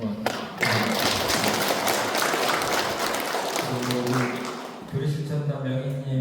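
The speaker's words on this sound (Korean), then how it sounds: "잘하고 오라고 큰 박수 좀 한번." Congregation applauding during a Won Buddhist temple service, a dense burst of clapping that fades before a voice resumes speaking near the end.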